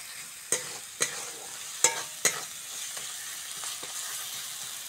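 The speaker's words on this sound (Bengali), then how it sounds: "মশলাটা ভালো করে কষে নেব।" Spice paste for a fish head and ash gourd curry frying in a pan, with four sharp spoon scrapes early on, then fainter stirring over a soft, steady sizzle.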